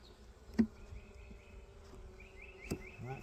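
Honeybees in an open hive during an inspection give off a faint, steady buzz with a couple of soft knocks, and no voices are heard.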